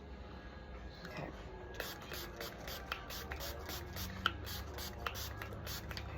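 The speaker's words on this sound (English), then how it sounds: "What I'm just gonna do is spray on the hydrogen peroxide right now." Hydrogen peroxide sprayed from a pump bottle onto a rooster's bloody spurs in a barn, a series of short hissing spritzes in quick succession, with faint background noise and some handling sounds.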